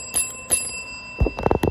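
A Staples call bell is struck twice with bright, ringing dings, then handling clatter and quick knocks follow close by. Nobody speaks.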